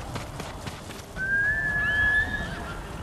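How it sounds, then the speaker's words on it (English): A horse neighs in a long, high whinny in the video game Ghost of Tsushima, over a steady background bed, with a second fainter call trailing it. "Good horse."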